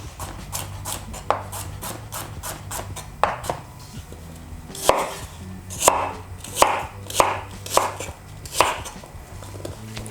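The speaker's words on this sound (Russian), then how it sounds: "Овощи мы нарезаем произвольно, плюс-минус одинаковыми кусками." Rapid knife chopping of vegetables on a cutting board, a quick run of close, crisp thuds, then slower clusters of heavier cuts.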